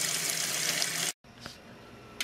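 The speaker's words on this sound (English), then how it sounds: "Put water in my pressure canner." Water pours steadily into a pressure canner for about a second, a broad rushing sound, then cuts off into a quieter tail with a small splash and a brief hiss near the end.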